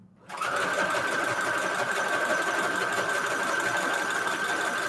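A sewing machine starts up and runs continuously at a fast, even stitching rhythm, with a steady high whine throughout.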